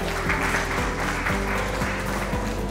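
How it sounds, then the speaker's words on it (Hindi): Crowd clapping at an awards event, sustained and even applause with steady loudness layered over background music. "प्लीज एक बार जोरदार ताली हो जाए"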